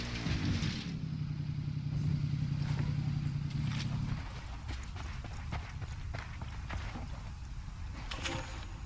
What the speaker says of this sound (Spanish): puedo agarrar esta moto y tratar de subir por la escalera